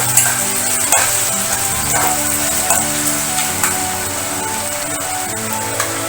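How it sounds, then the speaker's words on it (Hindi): Chopped onion sizzles steadily in a hot pan while a spoon scrapes and stirs through it, with occasional clicks against the pan. "और उसे अच्छे से चलाऊंगी चम्मच से।"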